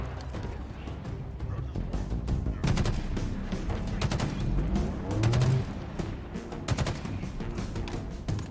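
Sniper and automatic gunfire in the video game Halo Infinite, several sharp cracks and bursts spread through a busy battle mix with game noise running underneath.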